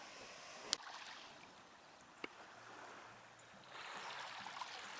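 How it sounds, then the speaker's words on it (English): Soft, distant Pacific Ocean surf washes steadily in a cove at Glencoe Cove, swelling slightly toward the end, with a couple of sharp clicks nearby. "The sound of the Pacific Ocean in this particular cove"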